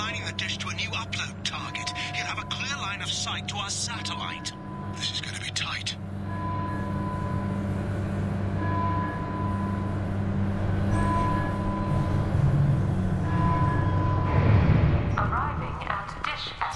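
A tram running in the sci-fi game Mass Effect 2, a steady low rumble with tonal hums beneath intermittent speech and faint music, the rolling noise swelling later on.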